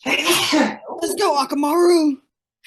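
A sneeze bursts out among children's chatter, a sharp nasal explosion followed by more talk from young voices.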